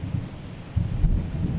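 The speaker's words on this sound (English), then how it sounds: "Sorry about the thunder and lightning guys" Low thunder rumbles during a storm, a muffled rolling boom that swells partway through and lingers over faint background noise.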